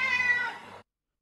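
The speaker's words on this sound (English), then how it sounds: "we have Zoran the cat, who's hungry, and therefore he's meowing" Zoran, a hungry cat, gives a single loud, drawn-out meow heard up close, lasting under a second before cutting to silence.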